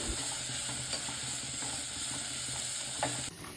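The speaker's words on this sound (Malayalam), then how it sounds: "ഇനി ക്യാരറ്റ് നന്നായി മൂപ്പിച്ചെടുക്കണം" Chopped carrots fry in ghee for a carrot semiya payasam, a continuous close sizzle with light stirring scrapes, steady and moderately loud, dropping slightly at the very end.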